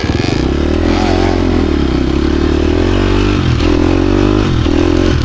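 Dirt bike fitted with an FMF Gnarly exhaust pipe, ridden slowly on Michigan single track: a steady, loud, close engine drone with a low throb and slight rises in revs, heard alone throughout.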